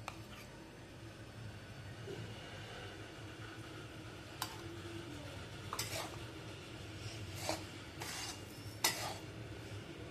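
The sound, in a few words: roasting besan gram flour with ghee, stirring in a pan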